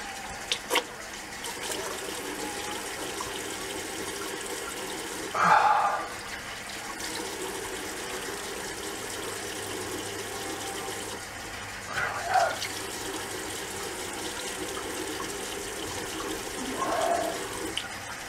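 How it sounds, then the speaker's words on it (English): Cold water from a tap for rinsing during a shave, a steady running-water wash with several louder splashing bursts as hands or a face meet the stream. "Cold water rinse."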